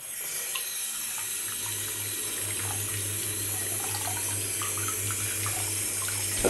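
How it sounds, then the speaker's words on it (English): Tap water runs steadily into a sink while items are washed, a constant close splashing hiss with a low hum beneath and no talk. "Let's give them a nice lovely wash."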